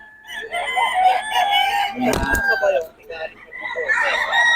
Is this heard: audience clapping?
no